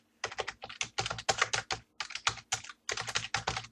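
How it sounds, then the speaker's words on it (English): Fingers type a description into a computer keyboard, close-up, in quick bursts of crisp key clicks separated by short pauses, with no talk. "So I can type this text in as my description"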